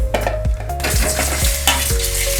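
Eggs fry in ghee with chili masala and turmeric in a kadhai, giving a loud, close, steady sizzle while a utensil stirs and scrapes the pan in repeated strokes, with no voices.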